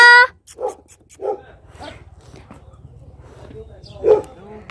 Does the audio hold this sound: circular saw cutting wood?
no